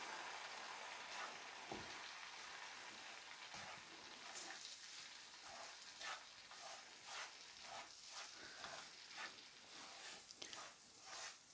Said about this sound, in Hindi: इसके अंदर डालेंगे सूजी और इसको भूनेंगे